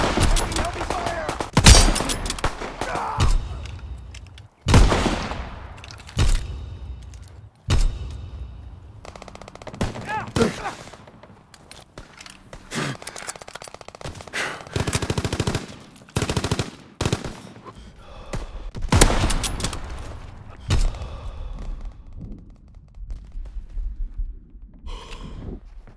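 In a World War II shooter game, heavy gunfire breaks out in loud sharp bursts and single shots between quieter gaps, and in-game voices shout and gasp over the fighting.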